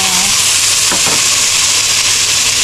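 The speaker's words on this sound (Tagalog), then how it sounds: "Habang nagigisa tayo ng tomatoes at saka bawang" Tomatoes and garlic sauté in a pan, a loud dense hissing sizzle that runs continuously, with a brief stirring scrape partway through.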